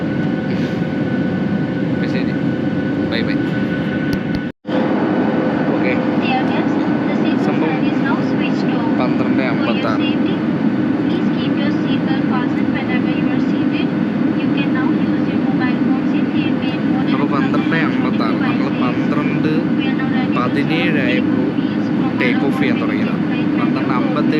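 Constant loud roar of Air India airplane cabin noise in level cruising flight, a steady engine drone broken only by one brief cut, with a voice talking over it.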